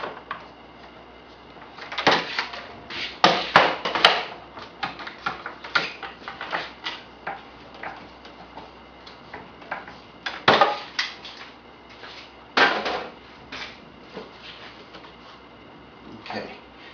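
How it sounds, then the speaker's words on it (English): Clamps are tightened on a glued wooden shelf with irregular clicks, knocks and metallic rattles of clamp hardware being handled and snugged, moderately loud and close, with no talking. "Now, tighten up the clamps a little bit."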